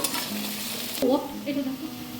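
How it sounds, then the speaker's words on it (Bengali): Ginger-garlic paste frying in a pan while being stirred, a brief close sizzle with a scraping spatula stroke and a short tonal squeak, moderately loud and without speech. "সব কিছুকে আমি আরেকবার ভালো করে নেড়ে নেব"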